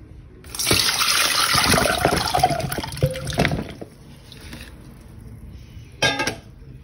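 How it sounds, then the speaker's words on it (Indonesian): Water gushes loudly into a container as cherries are rinsed, splashing and sloshing for a few seconds before settling to a quieter trickle, with a short splash near the end. "Nah, habis itu kita bilas untuk kedua kalinya ya"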